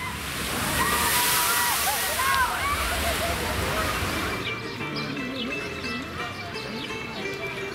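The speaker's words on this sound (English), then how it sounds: "this is a good water ride" Water on a water ride at PortAventura Park rushes and sloshes loudly for several seconds, then eases into a softer, steadier splashing, with distant voices and chatter mixed in.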